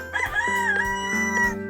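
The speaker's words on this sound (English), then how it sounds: "rooster," A rooster crows one loud, close, drawn-out cock-a-doodle-doo with no voices over it.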